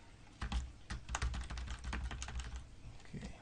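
Fingers type on a computer keyboard in a quiet room, producing irregular, faint clicking keystrokes that come in quick bursts with short pauses.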